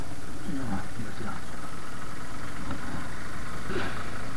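A Suzuki Gixxer motorcycle engine drones steadily while riding on an icy, narrow mountain road toward Gangotri, with a continuous low rumble and wind noise throughout.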